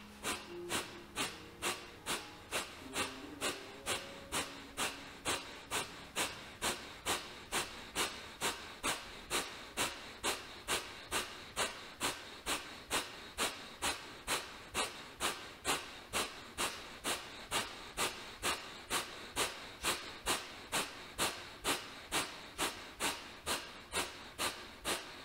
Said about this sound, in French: On fait une grande expiration, demi-inspiration et Kapalabhati,